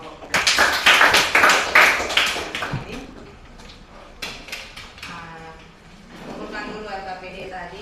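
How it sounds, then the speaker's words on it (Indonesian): Students in a classroom give a short round of applause for a group after its presentation, a few seconds of brisk clapping that tapers off, followed by scattered taps and a voice speaking. "Kita berikan tepuk tangan untuk kelompok 3"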